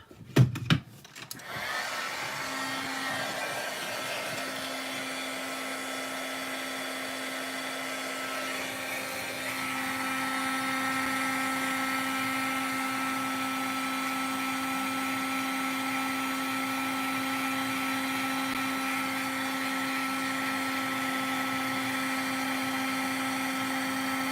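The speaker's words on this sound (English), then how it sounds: "now it's going to get a little noisy because I need to use my heat tool" A heat tool for emboss resist runs in a steady, loud, even whir with a constant hum. It keeps going for over twenty seconds after a brief clatter at the start, with no talking.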